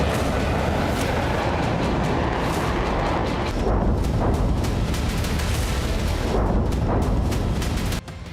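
Bombs from a B-1 bomber strike hit targets, giving a continuous heavy rumble of blasts and booming detonations throughout, loud and sustained with several swelling bursts and no voices.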